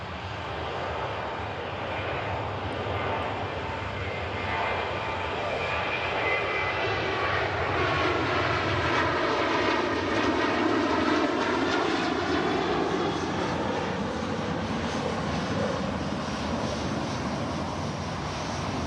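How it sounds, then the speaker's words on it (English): SunExpress airliner departing Manchester Airport, a loud sustained jet engine roar that swells and rolls as the plane climbs away. "And as the Sun Express departs, the EasyJet Whiskey Sierra taxis in front"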